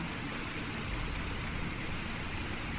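Steady, dense hiss of heavy rainfall in the Fallout 4 game world, a constant even wash of drops with no breaks and no voices.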